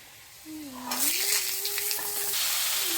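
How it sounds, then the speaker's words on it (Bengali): Steady frying sizzle from a pan of potatoes and green peas, with occasional stirring clatter and a faint tonal hum underneath. "গ্রিন মটর দিয়ে ভালো মতো এগুলোকে ভেজে নেব"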